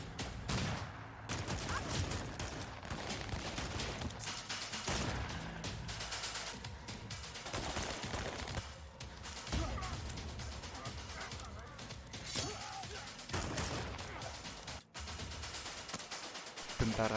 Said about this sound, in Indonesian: bayaran yang siap menembak Kate dan Jackson, dan baku tembak pun terjadi.